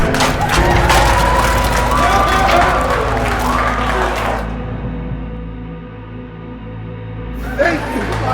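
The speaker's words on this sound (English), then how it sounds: "Give a big round of applause for Mr. X!" Cheering and applause rise from a crowd in the Retropolis 2 video game, loud and dense for several seconds before thinning to a steady murmur with a brief swell near the end.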